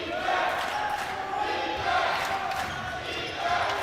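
A college basketball crowd at a Yeshiva Maccabees home game chanting defense, a loud rhythmic roar of voices echoing in the gym, with an announcer talking over it.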